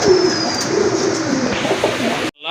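Low, throaty cooing of fancy pigeons at a pigeon sale repeats close by over a steady background hum, then cuts off abruptly near the end.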